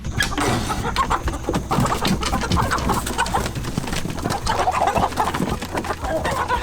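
A flock of chickens clucking and squawking close by, busy and continuous, with overlapping calls and a low background rumble.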